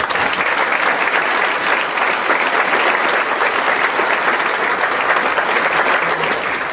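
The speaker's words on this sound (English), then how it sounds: "Could we please give them a round of applause?" A crowd at a graduation ceremony claps steadily and loudly throughout, sustained applause without a break.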